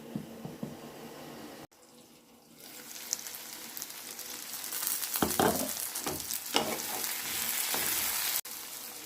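Chopped spinach frying and being stirred in a pan, heard as a steady moderate sizzle with scraping stir strokes, opening with quieter sounds and a brief gap before the frying grows louder and denser.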